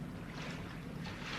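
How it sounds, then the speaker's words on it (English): Low, steady rumble of diesel boat engines at sea in a radio drama, a continuous distant drone with wind and water noise and no voices. "Sounded like engines."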